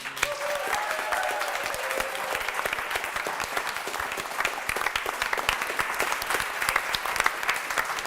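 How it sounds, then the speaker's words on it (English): A live audience gives a loud, dense round of applause for a stage cast and its directors, many sharp overlapping claps sustained throughout at close range. "why don't we all give one more round of applause, especially to Jenna and Victoria, who directed everything"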